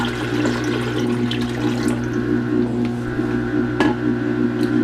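Filtered water streams into a full-size blender jar in a steady, close, moderately loud pour, with no talking over it.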